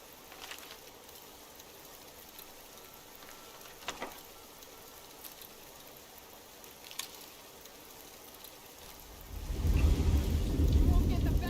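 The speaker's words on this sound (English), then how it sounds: "Hey, lightning bolt." Thunder rumbles in a Skyrim storm, a quiet rainy wash broken by a couple of faint cracks before a loud, deep roll swells near the end.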